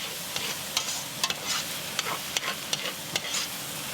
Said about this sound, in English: Give that a nice stir, make it fragrant.